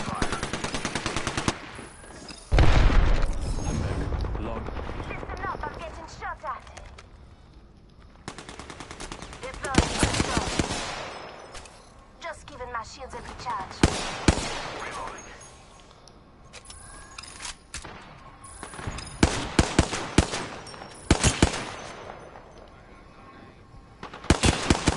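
Rapid gunfire bursts and single shots crackle through a ranked online shooter match, loud and close with repeated volleys, while players call out over the firing.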